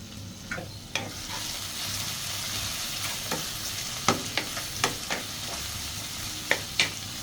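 Cardamom pods, cinnamon and bay leaves frying in hot oil in a pan for a home-style chicken dish, a steady soft sizzle broken by sharp scrapes and clacks of a spoon being stirred, several in quick succession near the end.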